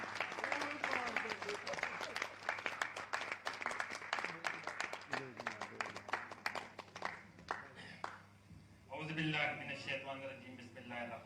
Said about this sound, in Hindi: जरा जोरदार तालियां बजाइए